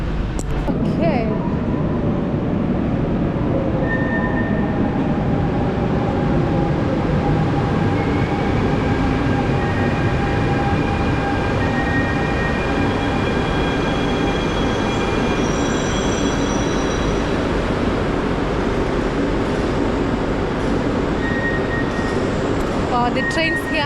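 Trains at a large Paris railway station, with a steady loud rumble of rail traffic and faint squealing tones, heard up close for the whole stretch.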